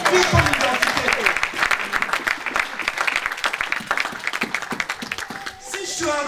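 A church congregation applauds loudly and continuously while a preacher's voice carries over the clapping.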